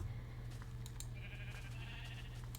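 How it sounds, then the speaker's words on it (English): A sheep bleats quietly in Minecraft, one soft wavering call over a low steady background hum, faint and a little distant. "Every time I see a sheep, you gotta punch them and grab the wool"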